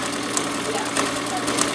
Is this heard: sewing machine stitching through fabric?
yes